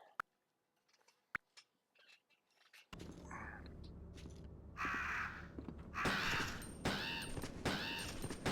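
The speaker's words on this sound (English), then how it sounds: "Fucking crows." Crows cawing in the Resident Evil 2 (1998) game, a few sharp isolated calls at first, then louder, denser harsh caws repeating over busy game noise.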